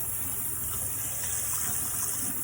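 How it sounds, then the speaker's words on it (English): Water gushes steadily from a tap as a container is rinsed out, a loud, constant splashing flow that fills the whole stretch with no talk. "we're going to rinse out our container"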